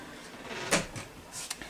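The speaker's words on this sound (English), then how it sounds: "My cat just opened the door, y'all." Door being pushed open by a cat indoors, heard as a brief soft creak and click, followed by a couple of faint bumps in a quiet room.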